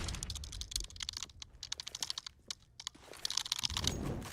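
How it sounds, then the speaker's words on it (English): Rapid bursts of computer keyboard typing clatter close by, uneven clicks running throughout with brief pauses, during a live esports broadcast of an IEM Beijing 2020 match. "can you stop typing in the Twitch chat?"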